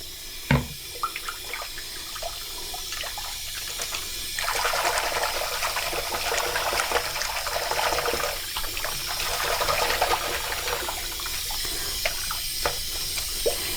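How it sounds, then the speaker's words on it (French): Tap water runs steadily into a bathroom sink, a continuous hissing stream that grows slightly fuller as the basin fills, with a few faint knocks and no talk. "Je vais remplir mon lavabo."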